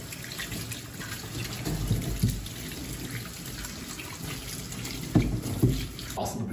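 Carrots and potatoes being washed under a running kitchen tap at a farmhouse in Ambewela, Sri Lanka, giving a steady close splash of water with a few louder bumps and sloshes of handled vegetables.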